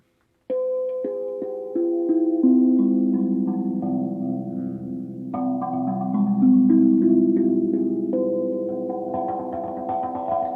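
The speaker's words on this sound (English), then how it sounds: "Put it on the delay reverb with a bit of phaser and see where we get." A sustained, droning instrumental tone washed in echoing delay, reverb and a slowly sweeping phaser, notes layering and swelling with no voices.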